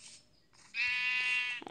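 A video game sheep gives one loud, nasal bleat up close, preceded by fainter game sounds.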